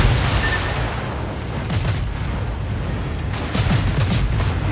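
A torpedo explosion hitting a ship in a naval combat video game sounds as a continuous, loud, rumbling boom with crackling bursts, swelling again near the end.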